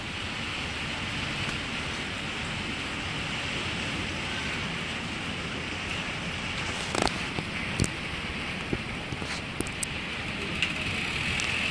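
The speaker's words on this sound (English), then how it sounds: "background is all rain and thunder." Steady rainfall from an Oklahoma storm hisses continuously, with a few sharp crackles and pops; no clear thunder rumble stands out.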